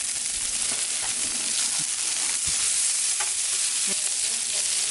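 Burgers sizzle and fry steadily on a hot griddle, a dense continuous hiss with occasional faint stirring or scraping touches, close and loud, with no talking.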